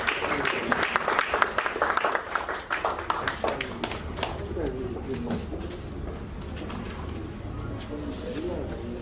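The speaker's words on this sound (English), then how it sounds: "A round of applause, please" Audience applause at a Lagos pension commission gathering, a burst of clapping that is busy at first and then thins out, with voices and background murmur continuing underneath as it fades.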